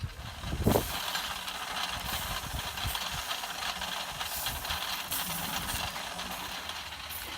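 Greek souvlaki skewers cooking on a grill give off a continuous, dense sizzling hiss with a brief louder flare early on, close and steady throughout.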